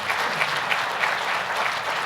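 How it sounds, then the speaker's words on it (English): A board of directors audience at the National Association of Manufacturers gives a steady round of applause, dense crowd clapping that stays even throughout the short stretch. "you could give them a round of applause"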